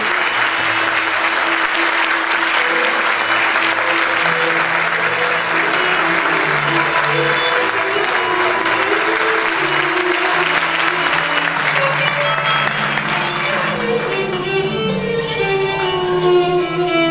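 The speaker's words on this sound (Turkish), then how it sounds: "Alkışlarınız Gürcan Özdemir için." Audience applause at a 2019 New Year concert by a volunteer music group in Çekmeköy, a steady dense clapping that fills the whole stretch while a sung melody carries on over it and fades toward the end.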